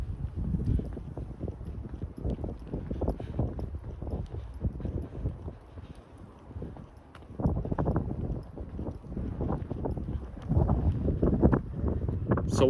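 Heavy wind buffets an outdoor microphone during a walk through a city centre, a steady low roar with louder gusts surging near the end and no talking.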